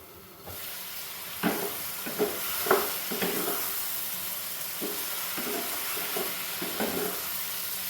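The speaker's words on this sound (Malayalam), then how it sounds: "ഒരല്പം എണ്ണ ഒഴിച്ചു ഉള്ളിയുടെ ആ പച്ച ചുവയൊന്ന് മാറി കിട്ടാൻ കണക്കിന് ഒന്ന് വഴറ്റിയെടുക്കാം." Onions sauté in a little oil in a pan, giving a continuous sizzle broken by repeated stirring scrapes and bursts of louder frying.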